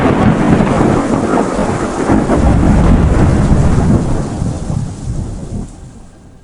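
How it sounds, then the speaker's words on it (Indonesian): A rainstorm with a long, loud thunder roll rumbles low and close over falling rain, then gradually fades away. "Kilat disertai petir menyambar di atas sana"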